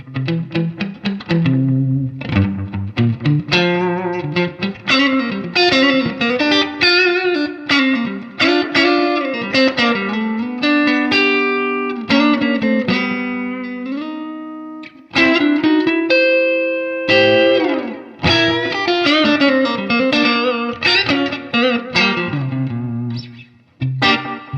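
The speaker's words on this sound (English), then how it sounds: "here's the delay set up the way we had it in the intro" An electric guitar played through a vintage Boss DM-3 analog delay pedal, a continuous phrase of picked notes and sustained chords with audible repeating echoes trailing each note, loud and close.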